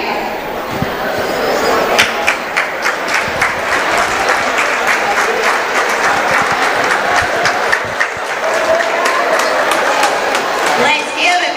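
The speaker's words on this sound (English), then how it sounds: "Let's give a big round of applause for 49 years of dedication and service to Mississippi basketball, Mr. Donnie McKay." A crowd at a Mississippi basketball event gives long, loud, sustained applause honoring referee Donnie McKay for 49 years of officiating, with scattered sharp claps and people talking throughout.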